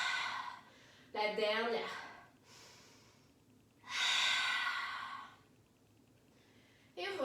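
A person takes a deep breath in, then releases it in a long exhale through the mouth. The sigh comes alone, with a brief spoken phrase before it.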